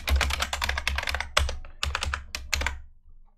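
Fast bursts of typing on a computer keyboard while writing OpenGL code, close and clear, with short pauses between runs of keystrokes and no talk.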